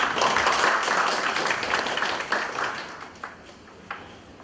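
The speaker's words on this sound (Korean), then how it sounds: "뜨거운 박수 부탁드립니다." Audience applause at a public debate forum on apartment communities welcomes the host's opening speech, a dense patter of clapping that starts full and gradually thins and fades, with a few last isolated claps near the end.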